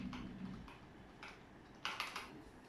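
Key clicks from a Zebronics Transformer keyboard, a quick run of light taps with a denser burst near the end, close and fairly quiet.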